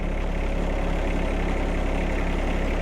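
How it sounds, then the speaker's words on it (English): Tractor engine idling, a steady low rumbling drone with constant pulsing, close and loud throughout, no voices. "So you can just move the tractor a little bit."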